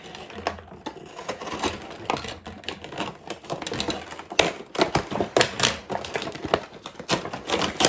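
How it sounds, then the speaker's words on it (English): A cardboard box from a beauty advent calendar is torn open close up, giving a rapid series of sharp rips, pops and crackling tears in uneven bursts with no voices. "I'm tearing this box up"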